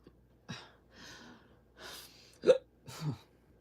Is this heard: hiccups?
yes